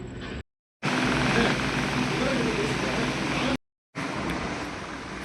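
An aircraft passes overhead as a loud, steady broadband roar that drops out twice for a moment.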